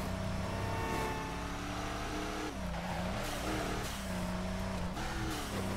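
A tuned Mitsubishi Lancer race car in Midnight Club 3: DUB Edition Remix roars at high revs with nitro and turbo engaged, a loud, continuous engine drone with rising and falling pitch, and no talking.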